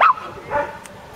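A very young Shetland sheepdog lets out one sharp, high bark at close range, followed by a softer yelping whine that tails off, on its first outing away from its club.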